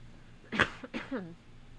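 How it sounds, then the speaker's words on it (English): A single short cough with a brief voiced follow-up from someone indoors, close and fairly quiet, with no other sound around it. "Sorry, I don't know why I have a cough today, guys."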